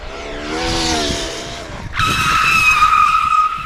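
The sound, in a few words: Traxxas Maxx Slash RC car skidding and crashing at speed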